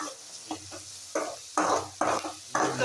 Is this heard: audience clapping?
no